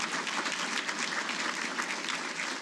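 An audience at a Hall of Fame ceremony claps warmly, a dense, even wash of many hands that stays loud and sustained for the whole stretch.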